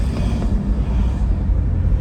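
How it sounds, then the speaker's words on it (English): Cars and big trucks pass on a road nearby, giving a steady low rumble and roar with wind noise and no clear gaps. "the cars make a lot of noise, and you got big-ass trucks with American flags on them making all that noise"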